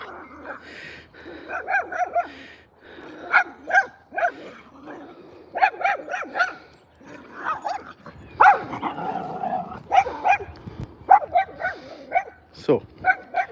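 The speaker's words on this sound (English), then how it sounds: "he is pouncing and trying to do a playbow with Alfie" Several dogs, including a Shih Tzu, bark, yip and whimper in short bursts while playing on an outdoor walk in Edinburgh, with a person talking in between.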